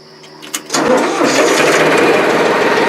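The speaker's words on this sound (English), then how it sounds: "This thing sure does start." A 2004 Farmtrac 435 tractor's engine cranks briefly, then catches and settles into a loud, steady diesel run that continues to the end.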